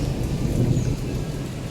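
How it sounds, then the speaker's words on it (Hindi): Steady heavy rain pours outside during a stormy evening, with a continuous low rumble of thunder rolling beneath the downpour, loud and unbroken throughout, with no voices. "बाहर बिल्कुल एकदम तूफानी माहौल हुआ था।"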